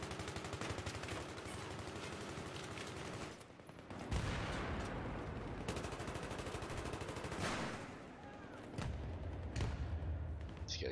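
Light machine gun fire in the video game Battlefield 3, on the Operation Metro map: dense, continuous automatic bursts with brief pauses, loud and close, overlapping other distant gunfire.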